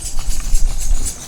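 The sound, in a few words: horse-drawn carriage hooves clip-clopping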